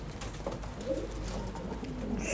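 Hünkari fancy pigeons, a large ornamental breed, coo softly in low repeated murmurs over a steady background hum, close by with no talking.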